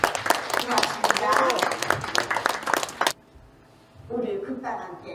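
Audience applause for a Korean theatre troupe's stage performance, dense clapping filling the first three seconds before cutting off, followed by a brief pause and softer sounds.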